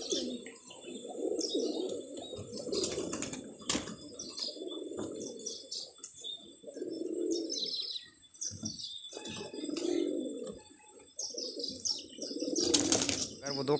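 Pigeons coo in low, throaty bursts, with occasional wing flaps and chirps, while someone talks intermittently nearby.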